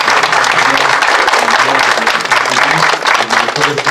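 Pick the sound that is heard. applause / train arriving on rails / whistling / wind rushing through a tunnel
applause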